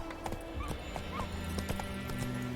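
Galloping horse hooves from The Witcher 3: Wild Hunt beat in a quick, rhythmic clip-clop under faint game ambience, fairly quiet throughout.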